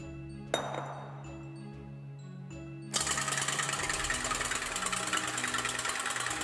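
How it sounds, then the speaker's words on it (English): An electric mixer whips egg whites for a pineapple upside-down cake, starting with a few clinks and then a steady, high, buzzing whir that runs on at low level without pause. "I have put the white part in the mixing machine"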